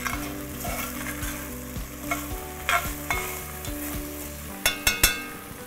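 Fruit being stirred into rice as it cooks for mutancana, a Turkish Ramadan dish, with a spoon scraping and knocking against the pot in a steady rhythm over a soft sizzle, then a few sharper clacks near the end.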